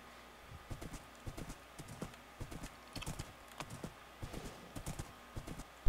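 Horse hooves clip-clop in the video game Minecraft, a steady run of quiet, evenly paced hoofbeats with no talking.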